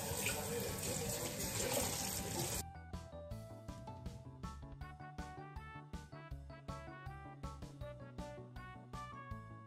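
Running tap water pours steadily over a pan being washed in a sink for the first couple of seconds, then gives way to rhythmic background music with a steady beat.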